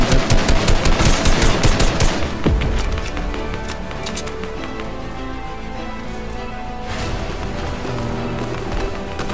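Rapid automatic gunfire in Fortnite, a dense stuttering burst up front that eases into steadier, busier game noise with scattered shots over a continuous backdrop.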